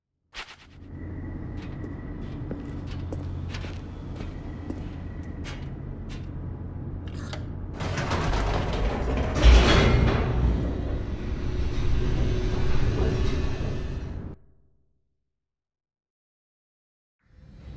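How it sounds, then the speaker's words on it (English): A game elevator descends with a steady low mechanical rumble and hum, then swells into a louder rushing roar with a sharp clank midway before cutting off abruptly into silence. "The elevator raced downward, plummeting towards an unknown fate."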